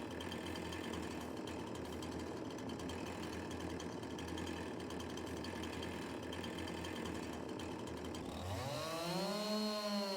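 A chainsaw in Farming Simulator 22 runs steadily at high revs for about eight seconds, then drops into a falling, wavering idle as it winds down, loud and close with no voices.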